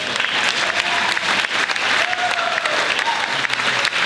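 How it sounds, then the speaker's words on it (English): Audience applause fills a civic State of the City address, a dense, steady clapping that holds at full strength for about four seconds with no pause or speech over it. "you gotta clap for that"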